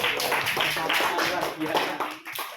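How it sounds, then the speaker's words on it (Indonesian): Students in a classroom clap in quick bursts for a group that has just presented, the claps mixed with voices and chatter close by. "tepuk tangan buat kelompok 4"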